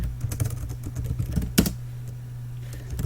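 Java code being typed on a computer keyboard, a quiet rapid run of close key clicks with one sharper louder tap midway, over a low steady hum.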